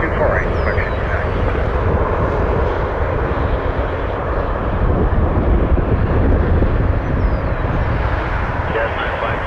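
A jet airliner roars steadily at Toronto Pearson airport during takeoff, a loud sustained engine rumble filling the whole stretch, with radio voices over it.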